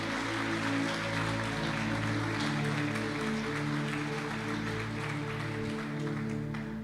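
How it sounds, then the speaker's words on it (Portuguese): A church congregation applauds during an evening sermon, steady broadband clapping sustained throughout under a droning organ or keyboard chord with sustained low tones. "aplauda bem forte o Senhor esta noite"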